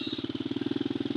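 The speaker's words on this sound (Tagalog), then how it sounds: "malatay naman ang motorsiklo sa hanging bridge." A motorcycle engine runs close by with a fast, even pulsing putter while crossing a hanging bridge, the rhythm quickening slightly over a moment.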